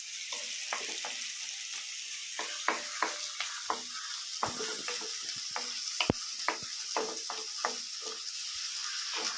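Onions sautéing in a hot pan with oil, a steady broadband sizzle broken by scattered crackles and the clicks of stirring, heard close and alone with no talk.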